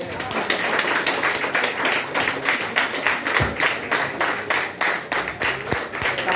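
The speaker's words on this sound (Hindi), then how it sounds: "एक बार जोरदार ताली बजाइए आपकी।" A crowd in a hall clapping, a dense, rhythmic burst of hand claps that swells and pulses steadily, loud and close, with a voice speaking over it.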